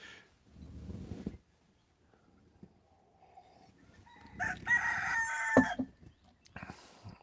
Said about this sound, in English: My birds are confused that a rooster is in my phone